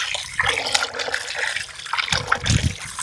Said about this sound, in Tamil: இப்போ இன்னொரு வாட்டி அலசணும்.